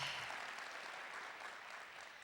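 Comedy show audience applauding, a steady wash of clapping that fades slightly toward the end with no talking over it.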